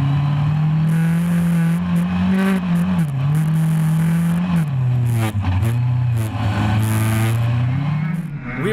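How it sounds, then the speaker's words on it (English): Rally car racing on an ice track in the 2019 G Series ice racing round, engine droning loud and steady with pitch rising and dipping through shifts, plus faint tire scrubbing. "Here we can see the precise driving of the rally driver."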